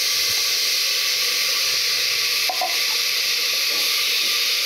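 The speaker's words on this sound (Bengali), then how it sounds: "আমি এই গাজর আর ডিম কড়াইটা দিয়ে দিলাম" Grated carrot and egg frying in a kadai give a steady, loud sizzling hiss throughout, with a brief faint clink partway through.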